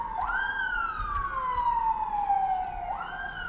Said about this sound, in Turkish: Aa itfaiye.